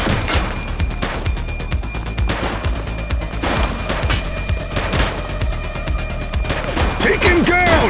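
Loud, dense volleys of gunfire in the police game The Precinct, a chaotic rattle of overlapping automatic shots and single cracks, with voices breaking in near the end.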